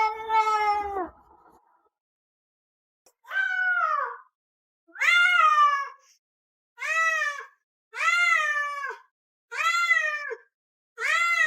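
A cat meows loudly and close by: one long drawn-out call, a pause, then a steady run of about six similar meows, each roughly a second long, with no other sounds around them.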